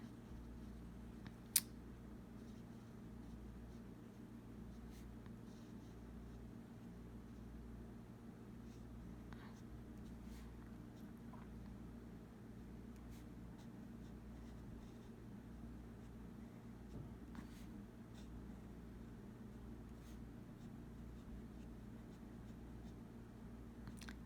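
A fountain pen scratches across paper in soft, quiet strokes, with faint taps and scrapes over a low steady hum and no talking.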